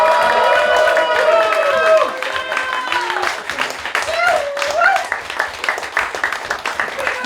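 Comedy show audience at a house party applauding and cheering a comedian as he comes on, loud and sustained at first, then easing while voices talk over the fading claps.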